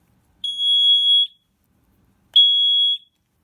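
Two loud, piercing electronic beeps from a water leak alarm, as loud as a smoke detector, each lasting under a second, separated by a pause, with silence around them.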